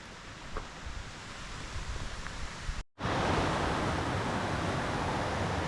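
Steady broadband rushing of a waterfall at a rainy campsite in Hancock, New York, loud and continuous, with a brief cut midway before the roar returns even fuller.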